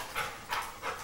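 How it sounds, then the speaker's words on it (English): Dog panting and whimpering nearby indoors, three soft rhythmic breathy bursts evenly spaced across about a second, fairly quiet and without talk. "What a great dog."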